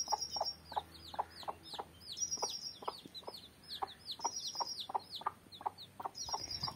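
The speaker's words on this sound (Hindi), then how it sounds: "यहाँ देखिए हमारा मुर्गियाँ, छोटी छोटी चूजा निकलाई हुई है" Hens and small chicks cluck and peep in a village yard, with a steady run of short, near chirps and clucks repeating throughout.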